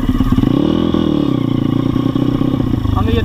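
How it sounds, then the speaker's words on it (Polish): An MRF 170 RC-U motorcycle on asphalt revs up, its engine note climbing and holding in a loud, close drone while someone talks over it. "pokażę wam jak to wygląda, jak się nagle przygazuje troszeczkę więcej gazu na asfalcie"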